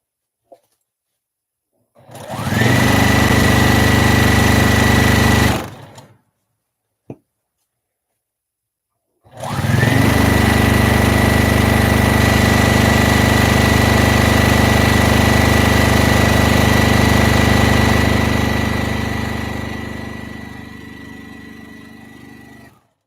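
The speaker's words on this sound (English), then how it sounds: "I am 2/3 of the way done sewing this bad boy." A sewing machine running while stitching an Etsy order, with a brief burst of loud, steady motor drone, a pause broken by a click, then a long continuous run of sewing that gradually slows and fades.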